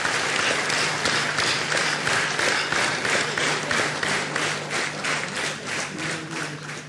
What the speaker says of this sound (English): So let us give a big round of applause to ISRO's all-women team of Chandrayaan.